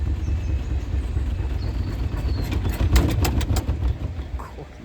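An Indesit Innex washing machine spinning hard and shaking, a loud continuous low rumble and drone with rattling, rhythmic knocks building near the middle.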